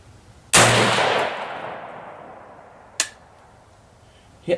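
AR-15 rifle firing 52-grain handloads at a 100-yard range: one sharp, loud shot with a long decaying echo, then two fainter distant cracks.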